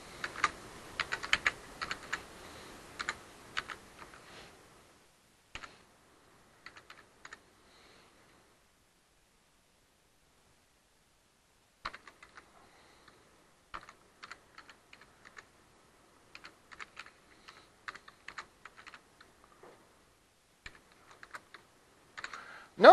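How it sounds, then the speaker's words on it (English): Typing on a computer keyboard during a web development lesson, heard as quick bursts of close, clicky keystrokes with several pauses in between, no talking. "So I'm going to type these in"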